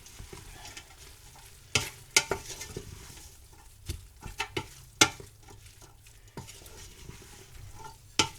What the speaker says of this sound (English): Stir that about.